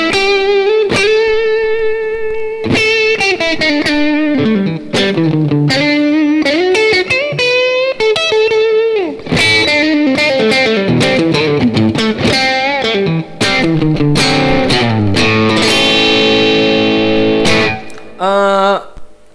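Electric guitar through a Boss DS-1 distortion pedal set with lower distortion for a lighter drive, playing loud, continuous sustained notes and melodic runs with bends, close and without talk.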